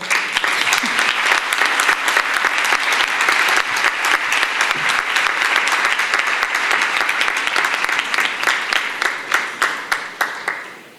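Audience applause at the presentation of the San Marcos 2026 festival poster in Beas de Segura, a dense, sustained burst of many clapping hands that thins into scattered claps at the end.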